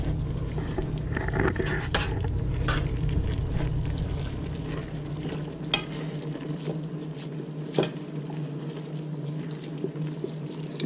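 Cooking liquid poured back into a pot of reduced collard greens for old-fashioned fried greens, a steady low wash of pouring in the first half before settling to quieter simmering with faint clinks.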